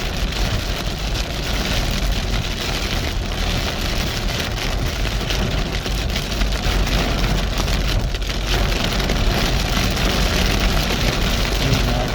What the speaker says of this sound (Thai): เขาบอกว่าจะเจอฝนพายุมาก็จริงๆ นะ